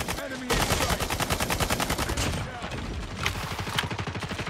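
Rapid automatic fire from a Striker SMG in an online first-person shooter hardpoint match, a steady close burst of evenly spaced shots running almost nonstop, with brief gaps and game effects underneath.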